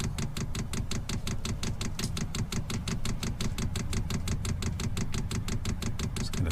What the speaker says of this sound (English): I turned it on and I can hear the pump going. That's bringing in the fuel from the back.